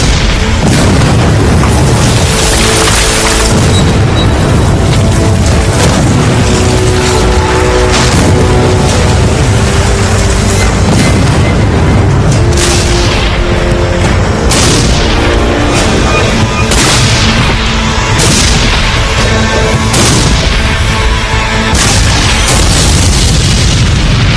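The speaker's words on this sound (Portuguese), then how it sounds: "Era a maior barragem de artilharia da história do hemisfério ocidental." An artillery barrage at the Battle of Gettysburg thunders in a dense, relentless run of heavy booming cannon blasts, loud and close, overlapping with the roll of more distant fire for the whole stretch.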